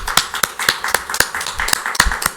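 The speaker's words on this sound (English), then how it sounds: "Let's give a round of applause." Sparse clapping from a small audience at a League of Women Voters candidates forum: distinct, close individual claps in a loose rhythm of about two per second, with no voices over them.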